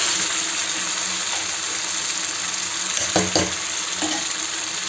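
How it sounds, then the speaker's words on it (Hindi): Sarson da saag cooking in a pan, stirred well with a spoon while it sizzles, a steady close frying hiss throughout with a few clinking scrapes near the end. "तो मैं इसको हिला देती हूँ अच्छे से"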